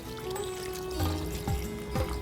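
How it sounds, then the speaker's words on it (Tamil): Water is poured over mutton pieces in a pot while making Chettinad mutton gravy. A short, soft pour splashes and trickles in the pot, fairly quiet and close, with a few small surges. "கறி மூழ்கிற அளவுக்கு தண்ணி ஊற்றிக்கங்க."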